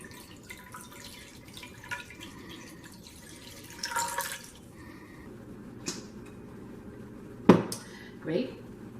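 Moon water is poured into a cauldron while brewing a herbal potion, with drips, splashes and clinks of metal and glass, ending in two sharp knocks, under quiet talk.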